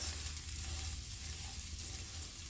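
Israeli couscous toasts in a hot pan with a steady, low sizzle that stays even throughout, fairly faint and without talk.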